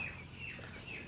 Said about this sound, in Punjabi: ਚਿੜੀਆ ਬੋਲਦੀਆਂ ਨੇ